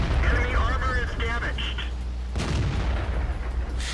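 A single heavy tank-gun shot from an anti-tank vehicle in the World of Tanks video game. It fires as one sharp, loud boom partway through, after a voice speaks over a constant low engine rumble.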